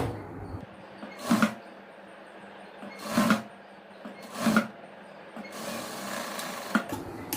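A sewing machine joining fabric pieces for a chudidhar and palazzo outfit, heard as three short whirring bursts of stitching set apart by pauses, then a longer steady run, close by with quiet background hum.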